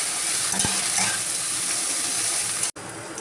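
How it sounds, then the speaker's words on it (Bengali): Okra fries in a pan with salt and turmeric, giving a steady close sizzle with stirring scrapes and a brief break near the end; nobody speaks. "এটাকে এবারে ভালো করে ভাজতে থাকবো"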